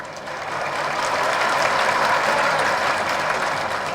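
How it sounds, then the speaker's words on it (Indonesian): An audience at a tax amnesty outreach event in Balikpapan breaks into dense, sustained applause, with many hands clapping together in a steady roar from start to finish. "Kalau ikut amnesti pajak silakan tepuk tangan."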